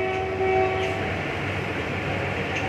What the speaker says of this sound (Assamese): এইটো মানে মালবাহী ট্রেন